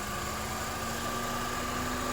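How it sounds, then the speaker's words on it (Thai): A 2017 Honda Civic FC 1.8 EL engine idles just after starting, a steady, even hum with no voices. "ตอนนี้เครื่องยนต์ติดแล้วนะครับ อ่าลองฟัง เสียงดูนะครับ"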